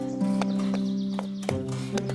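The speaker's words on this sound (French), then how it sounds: "La princesse monta sur le dos de Falada et sa suivante sur celui d'un âne." Hooves clip-clop in a steady, close rhythm as a princess rides her horse through a forest, with a few sharp knocks over a sustained tonal background and no voices.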